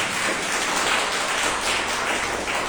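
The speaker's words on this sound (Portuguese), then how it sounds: "O Senhor Jesus, uma linda salva de palmas." Congregation applause during a Brazilian church worship service, a brief dense burst of clapping from many people, fairly loud and continuous.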